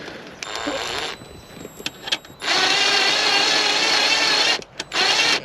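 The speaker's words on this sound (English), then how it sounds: "I might be able to use the drill attachment on this." A power drill with an attachment whirs during a Land Rover Discovery 2 radio amp replacement, running in short bursts and then a longer loud steady spin, stopping briefly near the end before starting again; no voices.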